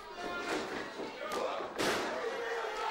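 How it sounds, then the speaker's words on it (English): A wrestler slams down onto the canvas of a wrestling ring, giving heavy thuds that ring out over steady crowd noise and an announcer's commentary. "Sam Slam knocking down the challenger, Doug Williams"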